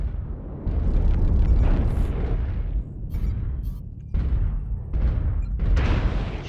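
Heavy missile explosions in the mech combat game MechWarrior Online: loud, dense booms and blasts roll almost continuously, with a few brief gaps before more impacts crash in.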